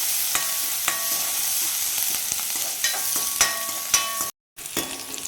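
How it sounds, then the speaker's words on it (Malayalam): Chopped ginger and green chillies fry in coconut oil with a bright, steady sizzle and repeated sharp spoon scrapes as they are stirred. The sound cuts out briefly near the end. "ചെറിയൊരു കഷ്ണം ഇഞ്ചി അരിഞ്ഞിട്ട് ഒരു അഞ്ച് പച്ചമുളകാണ് ചേർത്തിട്ട് ഒന്ന് ഇളക്കി കൊടുക്കാം"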